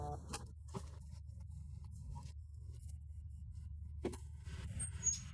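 An angkot minibus pulls away with a low, steady engine rumble running through the whole stretch, joined by a few brief scrapes and clicks.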